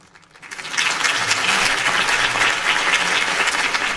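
A crowd in the video game Batman: The Telltale Series bursts into loud, sustained applause that rises quickly and holds steady with dense clapping throughout.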